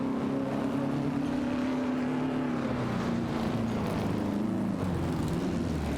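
Racing cars in a racing game, a Maserati 250F 3.5 litre and a Curtiss Craft 500B dueling for position, make a steady, loud engine drone that slowly shifts in pitch, unbroken and with no voices.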